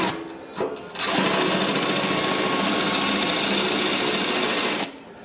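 A drill bores a hole in cast iron with a steady, loud high-pitched whine that holds for about four seconds after a brief start, then stops abruptly; no talking.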